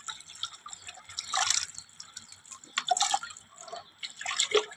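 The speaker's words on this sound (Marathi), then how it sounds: "त्याला धुवायला लागतो स्वच्छ धुवून घ्यायची बघा मोड आलेले आहेत मक्याला" Sprouted maize seeds are rinsed clean in a tray with water, as hydroponic green fodder grown at home. Close, irregular splashes and drips come in uneven bursts throughout, with no talking.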